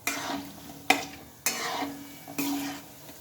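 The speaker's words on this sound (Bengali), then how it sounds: "এবার এগুলোকে ভালো করে একটু লাল লাল করে ভেজে নিতে হবে" Crispy homemade nimki snacks deep-frying in hot oil while being stirred, with a steady bubbling sizzle broken by a few sharp scraping strokes of a utensil, close and moderately loud.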